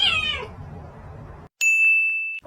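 A house cat gives a short, bright meow at the start, followed after a pause by a sharp, ringing ding that sustains clearly before cutting off, with no talk.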